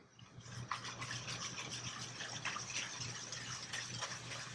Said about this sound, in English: I'm going to whisk everything up nice so that the sugar and the salt dissolves.